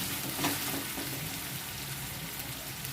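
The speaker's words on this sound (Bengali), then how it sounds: "আদা রসুনটাকে আর লঙ্কাটাকে ভালো করে একটুখানি কষে নিয়ে" Ginger, garlic and chili sauté in a hot pan with a continuous close sizzle and crackle, broken by brief stirring scrapes, with no talk over it.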